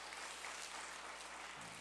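A church congregation claps together at a Christmas Day service to welcome visiting families, steady dense applause filling the room throughout without pause.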